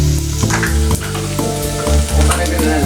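Margarine sizzles and fries in a frying pan for creamy beef with mushrooms, a steady, close hiss with regular knocks of stirring.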